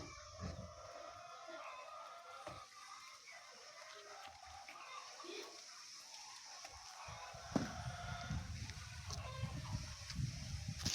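Poultry-farm chickens cluck and a rooster crows while being fed cheap feed, the birds fairly faint and scattered against a steady background, with some handling noise.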